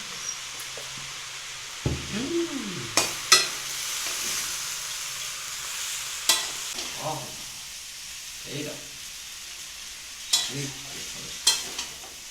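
Chowmein sizzles steadily in a hot pan while it is stirred and tossed, with sharp scraping knocks of the utensil against the pan at irregular intervals and someone talking over it.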